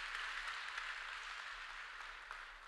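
Audience applause at a public schools hall of fame ceremony during a mayor's remarks, a steady, even wash of many hands clapping with no voices over it, fairly quiet and distant throughout.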